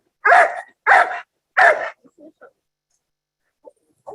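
A dog barks three loud times in quick succession in a yard, followed by a few softer whimpering and yipping sounds.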